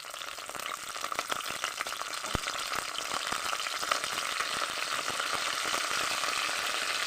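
Curry leaves fry in hot oil, giving a steady crackling sizzle with dense sharp pops throughout, close and fairly loud, with no one speaking.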